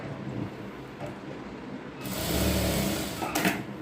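A sewing machine stitches a pocket onto a ladies' pant, starting with a soft, quieter run and then a louder, steady whirring burst in the second half.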